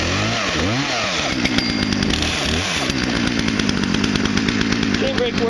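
A Poulan chainsaw idles and revs steadily just after a hard start, loud and close, its engine pitch rising and falling continuously while a voice talks over it.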